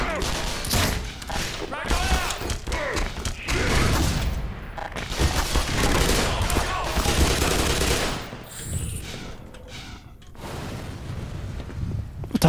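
Bursts of automatic gunfire and heavy thuds in the Black Mesa video game crackle loudly through most of the stretch, mixed with game effects and someone talking over them.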